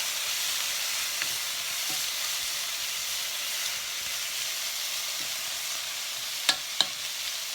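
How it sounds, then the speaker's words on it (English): Black beans tipped into a hot frying pan and stirred around, a steady close hiss of sizzling with two quick scraping clicks near the end, no voices. "Just gonna dump those in. Stir them around slightly."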